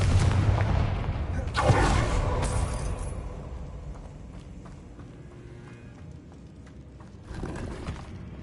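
A Confringo blasting spell fired in the game Hogwarts Legacy, a loud booming explosion burst near the two-second mark that rumbles and fades, followed later by another heavy impact, with a voice briefly heard at the start.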